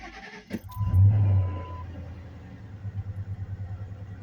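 A 2000 Ford Expedition with a 5.4 liter engine cranks briefly and fires up with a loud surge, then settles into a steady, rhythmic idle pulse close by.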